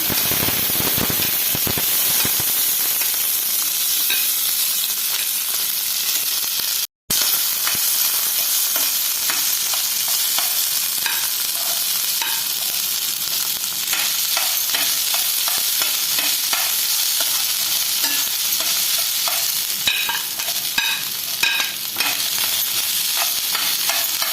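Corn kernels frying in a spoonful of ghee in a pan over a stove, a steady dense sizzle with crackling pops and scraping stirs throughout, loud and close, with one brief dropout partway through.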